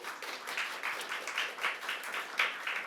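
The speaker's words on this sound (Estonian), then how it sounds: "Aplaus talle." Applause at a bagpipe graduation concert, a short burst of steady hand clapping from an audience, moderately loud and continuous throughout.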